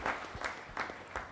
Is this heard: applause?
yes